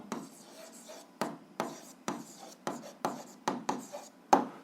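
Pen writing an answer by hand on paper during an algebra lesson: a series of close scratchy strokes and taps in quick irregular bursts, with light background hiss and no talk.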